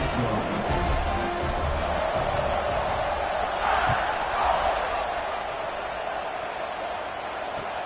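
A college football stadium crowd at an Alabama game roars steadily just before kickoff after an extra point, a dense, continuous wash of massed voices and cheering that holds at an even, loud level throughout.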